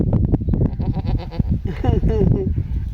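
A goat bleats in short wavering cries close by, mixed in with loud conversation between people at an Eid gathering.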